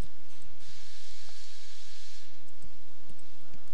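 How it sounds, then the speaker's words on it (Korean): Several sharp, quiet clicks sound in quick succession near the end, like a mouse button pressed over a faint hiss. "클릭, 클릭, 마우스 오른쪽 클릭"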